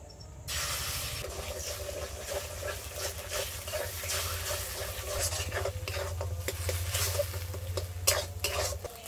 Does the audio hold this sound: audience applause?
no